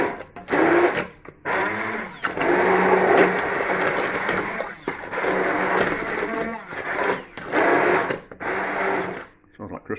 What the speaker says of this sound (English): And then let's puree up this and see what happens.